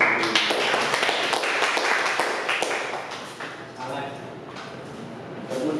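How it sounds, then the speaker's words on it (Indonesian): Claps from a classroom group during a micro-teaching session, a loose patter of hand claps running steadily for several seconds, fairly close and thinning slightly toward the end. "Tepuk tangan untuk Mas"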